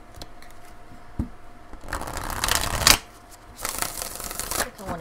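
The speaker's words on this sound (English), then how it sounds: "I think I want to give it one more shuffle. Shuffle, shuffle." Tarot cards being shuffled by hand, two distinct bursts of crisp riffling and flapping against a quiet room, the first longer and ending in a sharp snap, the second following after a short pause.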